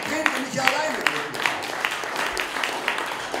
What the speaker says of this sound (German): Ihr dürft ruhig mal aus Beifall klatschen.